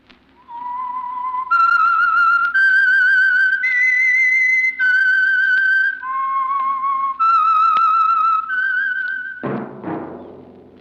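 A clear whistled tune of about eight long, wavering notes, stepping up and down, ending with a struck ringing tone that fades out.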